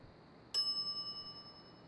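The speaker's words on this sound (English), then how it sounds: "Can I hit the bell again?" A bell in The Secret of Monkey Island video game gives a single bright ding that rings on and slowly fades, clean and alone.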